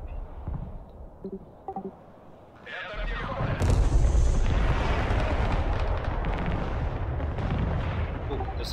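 Artillery fires in the real-time strategy video game Broken Arrow, a loud sustained barrage of booms and rumbling blasts that builds after a quieter start, with a voice talking over it.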